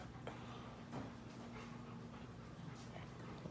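Panting from a dog comes through close and steady, soft rapid breaths over a constant low hum, with a faint whimper now and then and no talking.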